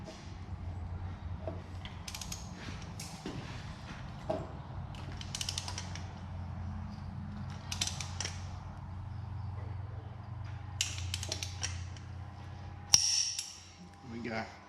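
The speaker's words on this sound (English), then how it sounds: "Torque wrench, going on 100 foot-pound." A torque wrench tightening cylinder head stud nuts on a Turbo Barra engine, with soft repeated ratcheting clicks and metal creaks in a quiet workshop, ending in a sharp click.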